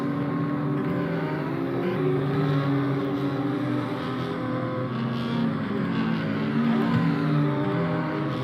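BMW 235i race cars on a flying lap at Zandvoort, engines droning steadily with layered revs from several cars, loud and continuous without a break.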